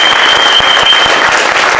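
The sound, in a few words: audience applause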